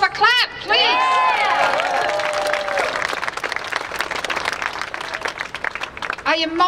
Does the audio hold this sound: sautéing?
no